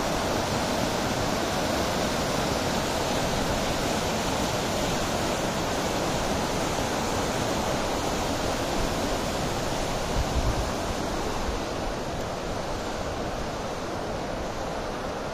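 Water rushing steadily along a mountain stream or waterfall on a hiking trail, a continuous broadband roar that stays close and loud for the whole stretch, with no voices over it.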